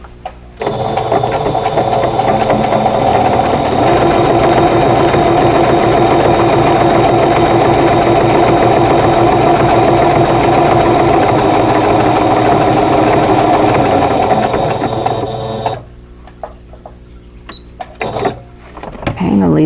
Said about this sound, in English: I think I need to do something I can get really narrow, like the blanket stitch